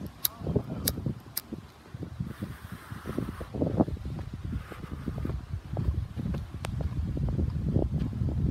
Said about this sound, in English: God damn, it's windy out here.